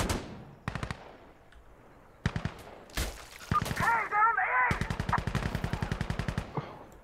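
Gunfire in the realistic shooter game Insurgency: Sandstorm: loud bursts of rapid automatic fire and single shots in an irregular rhythm, with someone talking in German between and under the shots.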